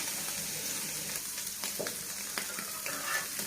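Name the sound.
frying shrimp with salt and turmeric in pan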